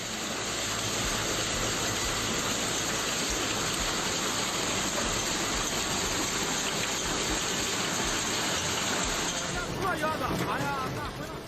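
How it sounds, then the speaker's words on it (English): A heavy Beijing hailstorm with downpour: a dense, loud, unbroken roar of rain and hail pounding surfaces for about ten seconds, then suddenly cutting to quieter splashing and dripping at the end. "On September 1st, Beijing experienced hailstorm and heavy rain."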